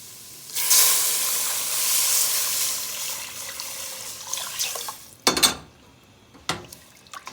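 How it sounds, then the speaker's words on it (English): Water pours into a pot of grey snapper stew, a steady hissing rush for several seconds that tapers off, followed by a couple of sharp clanks of the pot or utensil. "And now I'm gonna add some water."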